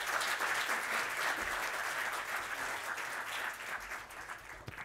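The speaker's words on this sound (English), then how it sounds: "let's give another round of applause for James" Conference audience at a London tech event applauds a speaker, a sustained, even patter of many hands clapping for several seconds, moderately distant and gradually easing off.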